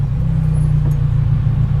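Honda S2000 sports car cruising on a country road, a steady low engine drone and road rumble from inside the cabin, loud and unbroken with no talking.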